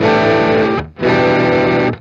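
Heavily overdriven electric guitar chord through a Stax Odrive-1 overdrive pedal, ringing out, cut briefly, then struck again and sustained, loud and gritty with no voices.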